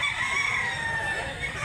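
A gamefowl rooster of the Duke Hulsey Grey x McLean line crows on a farm, one drawn-out, strained call held steady for its whole length, close and clear.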